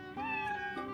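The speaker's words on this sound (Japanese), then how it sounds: "子猫だ。" A stray kitten found in a back alley lets out one drawn-out, close, clear meow that rises and then trails off, heard alone with no talking.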